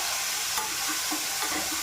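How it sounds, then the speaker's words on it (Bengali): Garlic and onion frying in oil in a home kitchen, with a steady bright sizzle and occasional soft stirring scrapes, close and continuous, with no voices. "রসুনটা একটু ভাজা ভাজা হবে"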